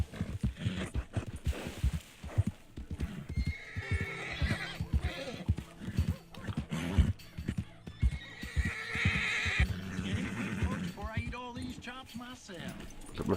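A horse in the Red Dead Redemption 2 game whinnies in a long rising-and-falling cry while hooves clop in an uneven rhythm, with someone talking over much of it.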